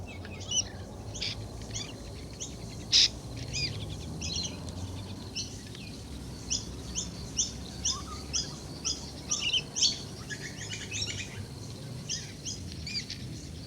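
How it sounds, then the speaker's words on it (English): Birds sing and chirp in an Australian garden, several overlapping high twittering calls coming in short bursts throughout, moderately near, over a soft low outdoor background of faint insect hum, with no voices. "Many species of birds feed and nest in the trees and bushes."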